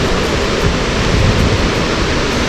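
A short stretch of heavy water flow at night, a dense unbroken rushing roar heard up close with no speech over it.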